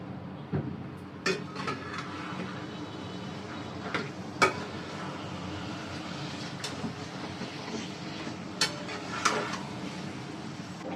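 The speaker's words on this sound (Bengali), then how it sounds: "ভালো করে মশলাটা মিশিয়ে নিয়েছি।" Beef biryani masala stirred and mixed in a metal pot, with a low scraping churn broken by several sharp clinks of a spoon against the pot, fairly close, with no talking.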